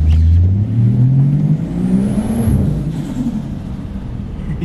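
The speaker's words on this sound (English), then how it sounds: "you'll probably like only hear mostly turbo sound" A turbocharged Ford Falcon with quad exhaust tips accelerates, its engine rising through a loud whirring sweep with a thin high turbo whistle above a deep rumble, then easing off.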